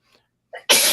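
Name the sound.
a person sneezing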